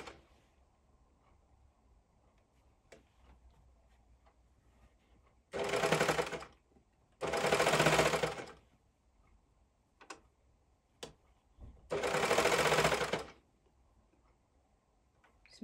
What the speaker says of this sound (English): So I'm just going to just make sure I stitch across evenly, catching everything